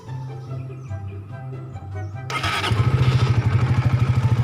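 A Suzuki GSX-S150 motorcycle sits close by under a low hum, then its engine cranks, catches and settles into a loud, steady, pulsing idle.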